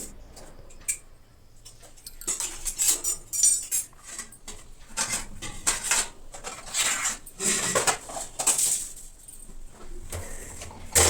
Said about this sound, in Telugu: ఈ పళ్ళాల స్టాండ్ ఉంది కదండి అది కూడా మొత్తం దాంట్లో ఉన్న సామాన్ అంతా తీసి కింద పెట్టేసుకుంటున్నానండి